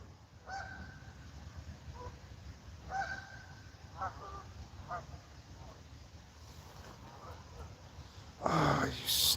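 Geese honk repeatedly outdoors during a fishing outing, a few scattered honks early on and more calls later, with people talking under a noisy background and a loud burst near the end.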